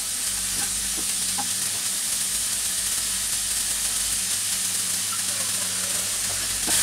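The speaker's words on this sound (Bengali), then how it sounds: "নেড়ে চেড়ে নিই মিনিটখানে।" Boiled broccoli is stir-fried in a hot pan, producing a loud, continuous sizzling hiss with faint clinks of stirring underneath, close and steady.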